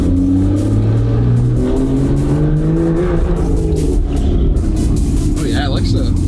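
A twin-turbo Ferrari V12 driving on cold, bumpy road with its rear tires slipping; a loud, steady engine drone with shifting pitch fills the cabin while people talk over it.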